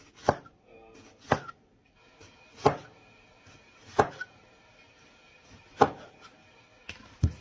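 A knife slicing peppers for paprika on a cutting board, six sharp separate chops spaced roughly a second apart, close and clear, with small rustles between strikes.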